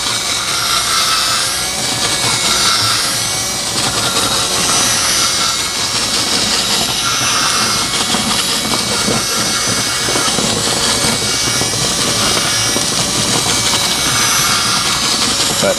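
Cutting a 1/2 inch hole in a plastic bucket, a loud, continuous grinding and rasping drone that holds steady throughout with slight surges.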